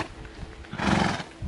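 Horses neighing near a group of visitors on holiday, a loud close whinny swelling up after a moment of quieter rustling.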